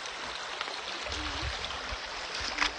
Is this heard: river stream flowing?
yes